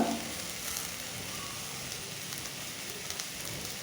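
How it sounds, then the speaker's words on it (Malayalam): Two chopped ripe tomatoes with salt are sautéed gently over a low flame, producing a quiet, even sizzle and soft crackle that holds steady throughout, with no voices. "ഈ സമയത്ത് കട്ട് ചെയ്ത് വെച്ചിട്ടുള്ള രണ്ട് പഴുത്ത ടൊമാറ്റോ കൂടി ചേർത്ത് കൊടുക്കാം ഇനി ആവശ്യമായ ഉപ്പും ചേർത്ത് നല്ലതുപോലെ ഇതൊന്ന് ലോ ഫ്ലെയിമിൽ വഴറ്റിയെടുക്കാം"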